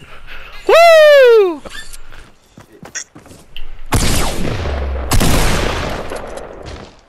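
Gunfire crackles in a shooter video game, with a long burst of loud shots near the end after a high whistling sweep and scattered clicks at the start.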